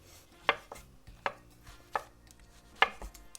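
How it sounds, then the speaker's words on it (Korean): A knife slices shiitake mushrooms thinly on a cutting board, four crisp, evenly spaced chops close by, with quiet pauses between. "자, 이제는 표고버섯입니다. 표고버섯 말이죠. 이건 옆으로 얇게 편 썰어주세요."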